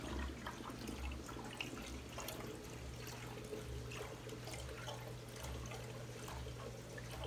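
Water surges and sloshes in a 150-gallon reef aquarium driven by a VorTech MP60 wave pump, with rhythmic wave pulses slapping the tank rim over a constant low pump hum.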